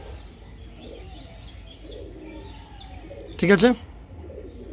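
Pigeons cooing in a breeding pair setting; low, continuous coos run throughout with faint chirps, interrupted midway by a brief, louder voice speaking close by.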